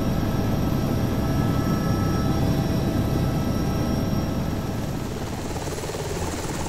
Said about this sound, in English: The rotors do eventually stop, but it takes a while.